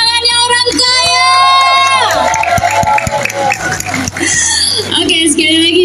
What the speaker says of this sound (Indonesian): Mana tepuk tangannya orang kaya?